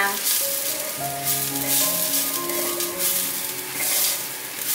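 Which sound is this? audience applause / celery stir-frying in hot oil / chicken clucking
celery stir-frying in hot oil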